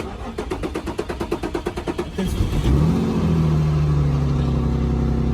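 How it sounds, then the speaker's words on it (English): An Infiniti G35 with a bad cam position sensor and 137,000 miles: a long run of rhythmic starter cranking, then the engine catches and revs up before settling into a loud, steady idle, close by. "It takes a while for it to start because it has a bad cam position sensor."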